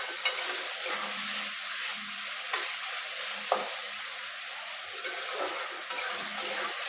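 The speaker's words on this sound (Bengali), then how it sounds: "লবণটা দিয়ে দিলাম, তারপরে একটু নেড়ে নেব ভালো করে।" Salted tomatoes cooking in a pan for pasta sauce, heard as a soft, continuous sizzle with a few light stirring taps, fairly quiet and without talk.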